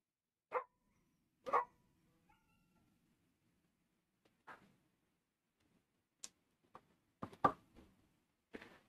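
A dog barks in scattered short bursts during a live stream, faint and somewhat distant, with long quiet gaps between the barks.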